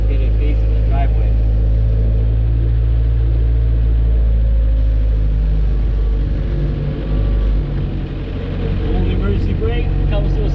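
A Suzuki Samurai's engine drones loud and close in a steady low rumble while the vehicle is driven around and turned, easing slightly near the end; a voice talks over it.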